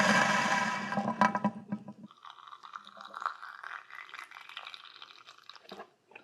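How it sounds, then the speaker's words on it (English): Distilled water pours from a bucket through a funnel into the heater core of a Mercedes 560SL R107. A loud gushing rush gives way to gurgling, bubbling trickles that fade out at the end. "I'm just going to get a bucket and a funnel and just fill it"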